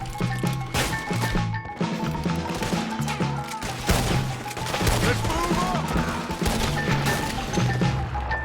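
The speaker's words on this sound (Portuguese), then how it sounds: "tiroteio intenso, hein?" An intense Red Dead Redemption II gunfight in Valentine, with rapid, dense gunshots cracking and smashing continuously alongside loud impacts, close and busy, with some voices underneath.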